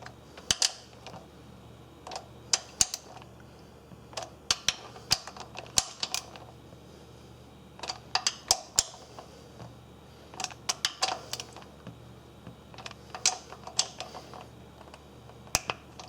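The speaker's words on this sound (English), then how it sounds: "we're going to torque it up to 18 foot-pounds, kind of easing up on each side" Torque wrench clicking as intake manifold bolts on a 2004 Ford Crown Victoria are tightened to 18 foot-pounds, alternating sides; sharp, close ratchet clicks come in short irregular bursts across the clip with no talking.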